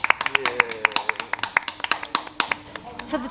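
Hands clap and tap in an irregular run of sharp, close strikes, with a voice faintly underneath.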